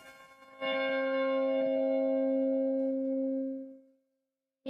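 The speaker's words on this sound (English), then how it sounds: "This is not the heaviest bell, but I'll ring this one anyway." A single church bell in a belfry strikes once near at hand. The tone is loud and rich and rings on for several seconds before fading away.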